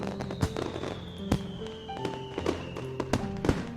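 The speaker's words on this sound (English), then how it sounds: "I really do like fireworks, even though looking at them makes me feel kind of sad" Fireworks in the Katawa Shoujo video game, scattered popping bursts and crackles over a soft backing tune, moderately loud.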